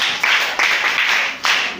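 A classroom of children in a maths bootcamp claps for themselves in several quick bursts of bright, overlapping hand claps, close by and fairly loud.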